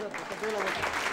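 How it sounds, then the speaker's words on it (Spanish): Guests clap for the girl at a quinceañera party, a short burst of applause swelling under an amplified voice that keeps talking over it. "vamos a aplaudirle a la quinceañera bien fuerte"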